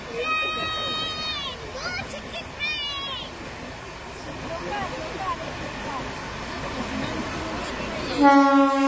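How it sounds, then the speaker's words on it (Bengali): A train passes, heard from the roadside on a trip through the Ranchi area of Jharkhand, with a steady rumble of railcars, horn blasts at the start and again near the end, and people talking over it. "রাস্তায় দাঁড়িয়ে ট্রেন দেখার মজাই আলাদা"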